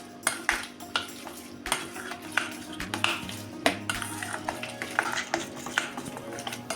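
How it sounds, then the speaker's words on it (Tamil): A spoon beats egg batter with curry leaves and coriander in a bowl, making quick, close, repeated clinks and scrapes against the sides in an uneven rhythm. "இது எல்லாத்தையும் நம்ம மிக்ஸ் பண்ணிக்கலாம்."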